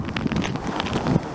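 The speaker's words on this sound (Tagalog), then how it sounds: "Ramdam ang malakas na hanging dala ng bagyong Tisoy hating gabi sa Gumaca, Quezon." Strong typhoon wind from Typhoon Tisoy blows at midnight in Gumaca, Quezon, a steady broadband roar with gusty surges throughout, close and fairly loud, with no talk.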